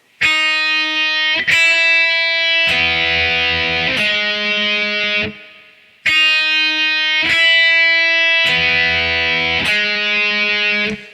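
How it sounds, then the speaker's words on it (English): Four distorted electric guitar notes ring out loud and close, played through once and then repeated after a short pause, with no voices. "So all four notes together sound like this."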